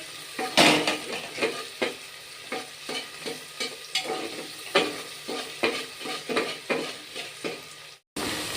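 Onions fry in a pan for mutton curry, with a steady sizzle and repeated scraping, clacking stirs at a loose rhythm. The sound is close and moderately loud and cuts off abruptly near the end.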